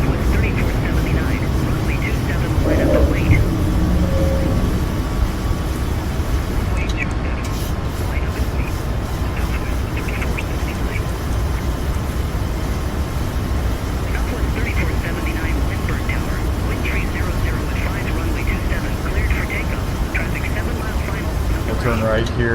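Airliner jet engines roar steadily at takeoff power in Microsoft Flight Simulator 2024, a continuous loud rumble with radio chatter over it.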